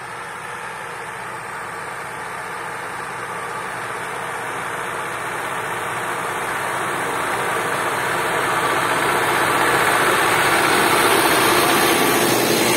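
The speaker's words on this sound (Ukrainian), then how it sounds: "трактор у міжряддя входить нормально" A tractor engine runs steadily with an Agromet weeder working through rows of potatoes, a continuous broad mechanical drone that grows slightly louder over the stretch, with no talking.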